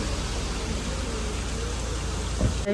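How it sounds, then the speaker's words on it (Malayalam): Rain falling steadily in misty weather, a dense even hiss holding at the same level for about three seconds with no voices. "മഴ തന്നെയുണ്ട് കേട്ടോ."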